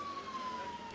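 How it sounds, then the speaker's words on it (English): A faint, distant ambulance siren holds a thin steady wail beneath quiet outdoor ambience at a night football game near woods. "You can hear the ambulance going off in the distance"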